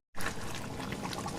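Water pours over rice being washed and soaked, a sudden close, steady splashing rush that starts sharply and continues evenly.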